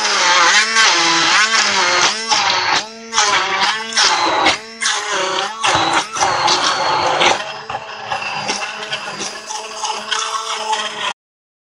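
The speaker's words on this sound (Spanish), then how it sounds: "Y trituro con la batidora." Hand blender whirring through a no-bake carrot cake mixture, a loud continuous motor buzz with rising and falling pitch as it churns, running steadily for about eleven seconds before stopping abruptly.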